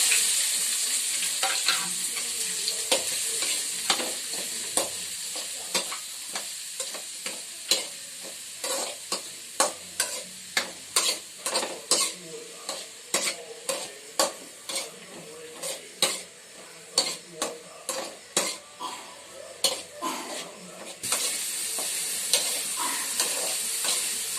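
Finely chopped onions sauté in a pan for mushroom gravy, a steady sizzle broken by repeated close scraping strokes of a spoon stirring them, in a regular rhythm for over twenty seconds.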